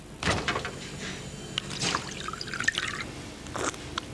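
Volvic mineral water runs from a tap fountain in short, splashy pours with a few drips between them, fairly close and moderately loud, with no voices over it.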